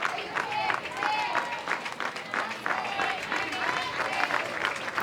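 Texas softball fans clap rhythmically in the stands during a two-strike, two-out moment near the end of a game, a steady crowd clapping pattern heard at a distance beneath a commentator's voice.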